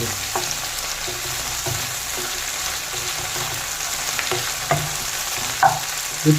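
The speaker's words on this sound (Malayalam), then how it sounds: "ഇനി രണ്ട് പച്ചമുളക് എല്ലാം കൂട്ടി വഴറ്റാൻ" Green chillies sautéed in a pan for an okra curry, with a steady frying sizzle throughout and occasional sharp scrapes and clinks of a spoon stirring against the pan, louder toward the end.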